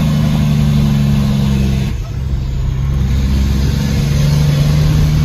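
An old truck's engine brake drones steadily with a deep, throbbing rumble, dipping briefly before resuming its heavy, chugging tone, on a dirt road through West Texas fields.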